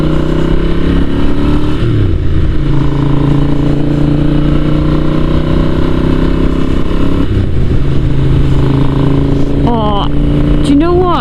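An old Ducati motorcycle engine drones steadily and loudly while riding, its pitch shifting with gear changes and throttle, with a brief rev near the end and speech over the engine noise.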